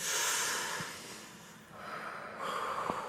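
A few breaths in and out through the nose come close up during a Brain Gym hook-ups exercise at a school, soft airy rushes with a brief sniff-like burst, with no talking.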